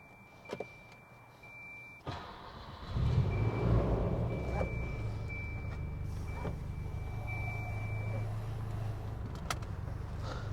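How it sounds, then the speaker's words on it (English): 1989 Volvo 740 Turbo Intercooler at night: a door thump, then the engine settles into a steady low idle rumble, with a thin electronic chime tone running beneath it. "Let's go for a drive in the Volvo."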